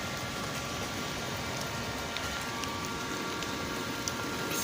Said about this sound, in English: Fortunately, the weather is torrential.